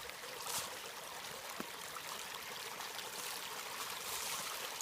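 Steady rush of running water from an overflowing stream on the Starr Trail, a continuous soft hiss and trickle with no voices, fairly faint and even throughout.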